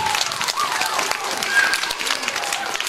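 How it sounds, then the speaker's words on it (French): Brief applause from a small audience at a children's clown show, scattered clapping mixed with children's voices and chatter. "On applaudit la petite fille."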